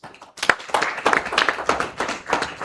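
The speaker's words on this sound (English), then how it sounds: "then you just walk over and as we clap for them, we have Matovu Bernard." Audience at a business and career symposium clapping for a person called up by name, a steady patter of many hands applauding at moderate volume throughout.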